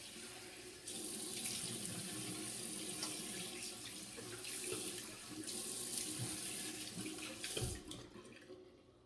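Tap water runs steadily into a sink for rinsing after a one-handed shavette shave, a soft continuous splashing hiss that starts after a brief pause and stops abruptly near the end.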